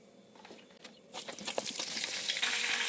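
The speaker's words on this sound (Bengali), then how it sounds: "আলুটাকে লাল লাল করে ভেজে নেব" Potato pieces hit hot oil with cardamom, cinnamon and cloves, a soft crackle that swells into a steady, bright sizzle close by, with no voices.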